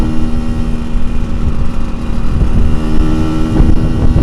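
A Yamaha RX King motorcycle engine runs loud and close, a steady throaty two-stroke drone with rough pulsing and slight swells in revs, with no voices.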